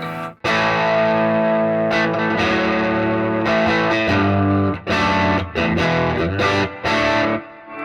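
Distorted electric guitar chords ring out loud and thick through a Fender '68 Custom Vibro Champ Reverb tube amp with treble and bass turned down, with a few brief breaks between strummed phrases.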